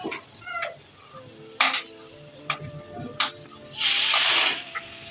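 Chopped capsicum curry sizzles in a pan while a utensil stirs and scrapes it, the frying hiss swelling into a louder burst near the end amid short clinks, with some faint talk.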